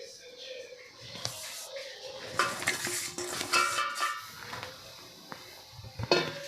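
A Raghavdas ladoo mixture is roasted in ghee in a pan over a low flame, with a spoon scraping and clinking against the pan and a soft sizzle under talk.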